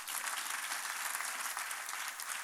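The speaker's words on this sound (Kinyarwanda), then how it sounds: "Ariko mwagiye mukomera Imana mu mashyi." Congregation at a Rwandan church service applauding, a dense, steady wash of many hands clapping at even loudness throughout, with no voices standing out.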